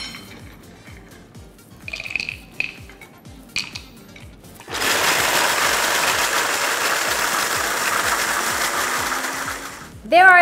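A small electric mini chopper whirs steadily as it chops onions, a loud continuous motor drone lasting several seconds, preceded by quiet handling clinks and ending in a sharp final burst.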